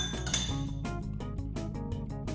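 A metal teaspoon taps repeatedly against a container, a run of close, bright clinks in a quick rhythm, fairly clear and alone.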